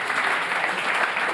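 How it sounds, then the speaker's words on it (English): Big audience applause at a tech conference demo session, dense and steady clapping from a large crowd filling the room, sustained and fairly loud throughout with no break. "Big applause."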